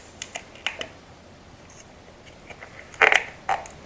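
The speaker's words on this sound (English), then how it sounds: "This is obviously just Plastidip, so we'll actually go ahead and peel this right back." Plasti Dip coating peeled back by hand from a cracked motorcycle rim, giving sparse, quiet crackles and small snaps, with a denser burst of tearing clicks near the end and no talking.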